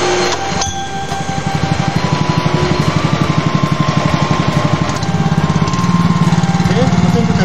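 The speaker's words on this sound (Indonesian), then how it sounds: "Oke, mesin sudah kita nyalakan, lalu kita on-kan tuang untuk mengalirkan oli hidrolis." A core drill's engine chugging steadily after starting, powering a hydraulic pump that turns the drill bit: a loud, close, rhythmic idle with a brief rise in pitch partway through and no other sound.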